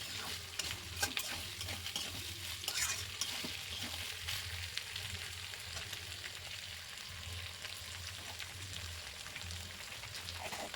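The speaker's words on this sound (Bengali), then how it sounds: "দেখো সুন্দর করে এইভাবে নাড়াচাড়া করতে হবে, আর খুব জোর আঁচ দিলে হবে না, একটু লো ফ্লেমে এটাকে কষাতে হবে।" Chicken ghugni stirred and slow-fried in a pan on low flame, a steady close sizzle with rhythmic spoon scrapes and light crackles throughout, with no talking.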